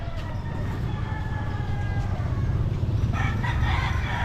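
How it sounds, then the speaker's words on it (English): Cockerels in a Davao City slum neighborhood in the Philippines crow in the distance, faint drawn-out calls rising over a loud, rumbling street background, with a clearer crow near the end. "like cockerels are everywhere and people love to"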